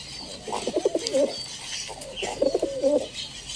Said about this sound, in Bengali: এই টোটালি 8 পিস কবুতর নিয়ে আজকে বের হব পাল্লার জন্য।